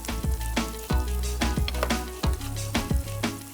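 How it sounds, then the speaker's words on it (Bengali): Chopped garlic and ginger frying in a pan are stirred, giving a steady sizzle broken by repeated scraping and knocking strokes of a utensil against the pan, close and moderately loud, with no talk. "আমি একটু নাড়া দিই"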